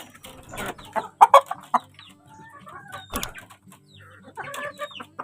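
Pet chickens at a small breeder's yard cluck and chatter in uneven bursts, several birds close by, with a brief crow-like call partway through and no talk.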